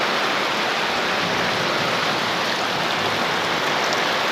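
Heavy rain pours down in a dense, steady hiss, loud and unbroken, with no voices over it.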